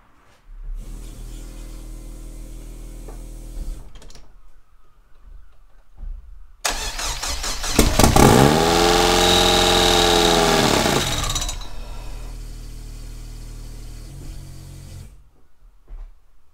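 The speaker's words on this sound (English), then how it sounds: "when I give it a kick over, engine should run" A car engine with a new front-mount intercooler cranks over on its first start with a rhythmic starter whir, catches and revs up loudly, then settles into a rumbling idle before cutting off.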